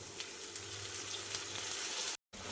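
Stuffed eggplants fry in separated oil in a pan for a curry, giving a steady close sizzle for about two seconds before a brief cut to silence.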